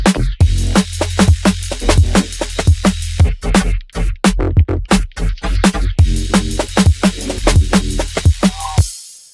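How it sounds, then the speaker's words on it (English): A drum and bass track plays loud and alone, with fast punchy drum hits over a deep, heavy bass line and dense upper layers. "I'm working on this drum and bass track, and it sounds like this."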